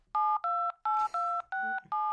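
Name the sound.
phone call dialing tones on a fake iPhone 15 Pro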